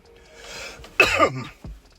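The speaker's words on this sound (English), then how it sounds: "I am coughing up a storm here, guys." One harsh, close cough, preceded by a breathy throat sound and followed by a short rasp, with no speech.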